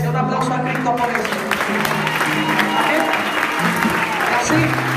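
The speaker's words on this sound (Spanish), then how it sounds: "Un aplauso a Cristo por eso." A church congregation at a youth convention applauds steadily throughout, the clapping blended with sustained voices or music and people talking over it.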